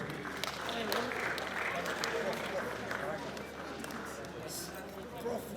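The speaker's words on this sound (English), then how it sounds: "Please, give him a round of applause one more time, please, as he makes his way here." A large audience at a royal launch event in Ile-Ife applauds in a steady, continuous wash of clapping, heard at moderate distance with crowd murmur mixed in.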